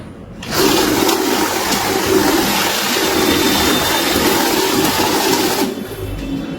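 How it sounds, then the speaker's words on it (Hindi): Cash note counting machine running through a stack of banknotes, a steady close whirring and rapid flutter of notes lasting several seconds before stopping abruptly. "100 काउंट किया, दोबारा इन्हीं के नोटों को प्लेस कर रहे हैं तो 200 हो जाएगा।"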